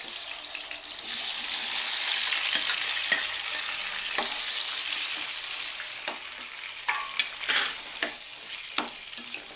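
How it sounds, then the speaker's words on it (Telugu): Tomato pieces sizzling and frying in hot oil on high flame, a steady hiss with sharp crackles and stirring clicks, close and moderately quiet. "టమాటా ముక్కల్ని వేసి హై ఫ్లేమ్లో పెట్టేసి కొంచెం లైట్గా వేగనిచ్చి"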